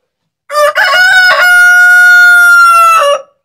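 A rooster crows loudly and close by, one long drawn-out call after a short rising lead-in, with no talking.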